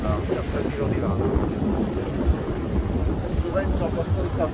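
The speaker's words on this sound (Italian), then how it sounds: "Vento, si è messo vento sostenuto" Strong cold wind blowing at sea during a fishing trip, a steady low rumble buffeting close to the microphone for the whole stretch with no letup.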